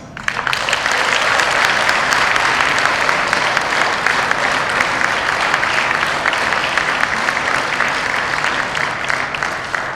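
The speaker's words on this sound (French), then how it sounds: "cet applaudissement vous est dû à vous" Guests at a state banquet in Rwanda hosted for Benin's president burst into loud, sustained applause, dense continuous clapping filling the room for several seconds without talk.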